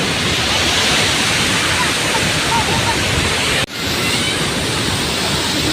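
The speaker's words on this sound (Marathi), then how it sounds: "हा बघा छोटा धबधबा कसा पडतोय." A small cascade at Thoseghar waterfall in Satara: a loud, steady rush of falling water fills the whole stretch, with one brief dip near the end.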